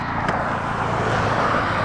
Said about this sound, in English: Very busy road here.